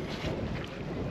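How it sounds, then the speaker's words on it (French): Wind gusting outdoors at a boatbuilding site, a steady close rushing roar with buffeting against the microphone, no voices. "le vent s'était calmé, puis là ça repart un peu aujourd'hui"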